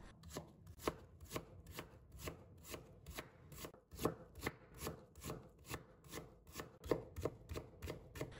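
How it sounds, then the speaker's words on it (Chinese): A knife chops radish into thin shreds on a board, a steady run of close, crisp blade strikes with regular rhythm and no talking. "片切好以后，再改刀切成萝卜丝。 萝卜丝我们也要切细一点，不要切得太粗了。"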